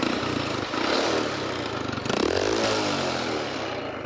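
A motorcycle engine runs nearby in a repair setting, giving a loud, continuous buzzing drone with rapid pulsing and slight revving swells and no talking.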